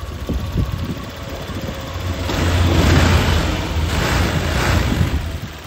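A Honda Vario 125 scooter engine with a charging fault idles close by, then rises in two revs and eases back, a steady mechanical drone with no talk.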